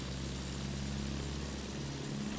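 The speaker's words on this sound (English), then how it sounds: "It's a plane!" In Battlefield 1, a propeller airplane drones steadily overhead, a constant low engine hum with a harmonic buzz that holds at one loudness throughout, with no voices.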